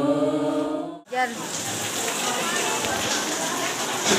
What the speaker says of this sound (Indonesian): Selesai misa hujan.